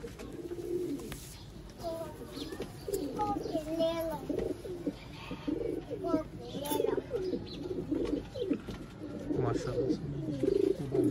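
Sialkoti rooftop pigeons coo repeatedly at moderate distance, soft rolling calls overlapping one another, with someone talking intermittently over them.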